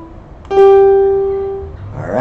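One sustained pitched instrument note with clean harmonics rings out and fades gradually, illustrating a third in a music theory lesson, followed by a brief rustle at the end.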